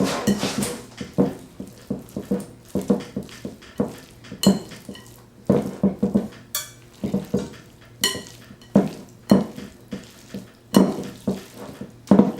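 Thick macaroni and cheese stirred in a cast iron skillet, with repeated close scraping and clanking of the utensil against the iron in an uneven rhythm, loud and steady with no talking.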